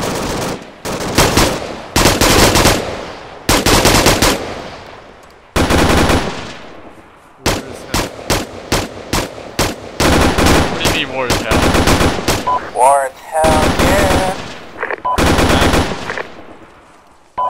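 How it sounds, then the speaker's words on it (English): Bursts of automatic machine-gun fire in the military shooter game Arma 3, loud and close, coming in repeated rapid volleys separated by brief pauses, with one explosion-like crack partway through. "Who's the guy shooting into the fucking trees?"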